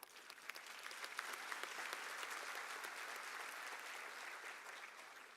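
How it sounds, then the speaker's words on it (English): An audience at a university autumn graduation ceremony applauds with a dense, steady patter of many hands clapping, sustained throughout at a moderate distance. "You're applauding with reservations."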